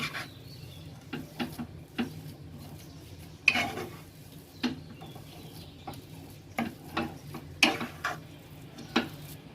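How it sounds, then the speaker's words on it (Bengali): Milk powder, sugar and grated paneer are stirred in a wok for sandesh, giving soft scraping and clinking taps of a spoon against the pan at irregular intervals, close and fairly quiet. "এরম করে কড়ায় নাড়তে থাকবেন।"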